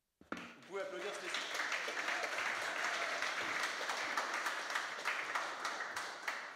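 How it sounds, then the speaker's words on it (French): An audience breaks into sustained applause after a brief thump, many hands clapping densely and evenly for several seconds. "Vous pouvez applaudir Stécie."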